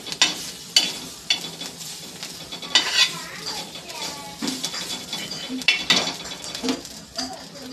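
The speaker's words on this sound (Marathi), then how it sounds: "लाल होईपर्यंत थोडंसं भाजून घेऊया" Ingredients for a prawn curry are stirred and roasted in a pan, with repeated metal spoon scrapes and clanks against the pan over a faint sizzle, close and uneven in rhythm.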